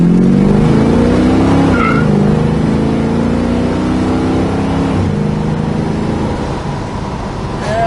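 A 1969 Mercury Cougar Eliminator engine revs up and climbs through the gears, pitch rising, dropping at a shift, then rising again, loud and close from inside.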